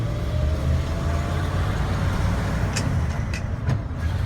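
A 1967 Ford F100 4x4 pickup with new mufflers drives along, its engine a steady, subdued low rumble with road noise throughout and no talking.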